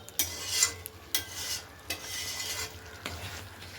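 Mutton kosha sizzles in a pan as masala is stir-fried with a splash of water, a steady frying hiss broken by several scraping stir strokes close by.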